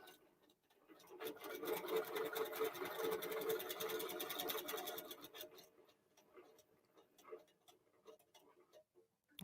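A QBOT V3 quilting robot stitches a quilt with a soft, rapid ticking needle rhythm that runs steadily for several seconds, then slows and thins into scattered clicks. The sound is quiet and close, with no voices.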